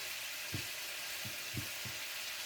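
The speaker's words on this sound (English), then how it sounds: "Okay, let these go. Sizzle, sizzle." Garlic steak bites sizzling loudly in a hot pan, a constant crackling hiss with a few soft thuds of food shifting underneath.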